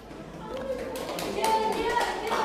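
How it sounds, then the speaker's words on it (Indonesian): Scattered classroom applause during a micro-teaching practice session, a modest patter of claps over a murmur of voices and background chatter, fairly faint and not very close. "Berikan tepuk tangan."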